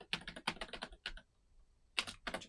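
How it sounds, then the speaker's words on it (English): Quick bursts of close key clicks come from typing on a computer keyboard, two clusters of rapid taps separated by a short quiet pause. "Just type cassette, James."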